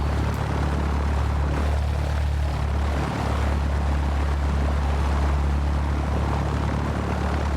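Steady, loud propeller aircraft engine drone in the X-Plane 11 flight simulator as the plane taxis, a continuous close rumble with a constant low hum throughout and no voices.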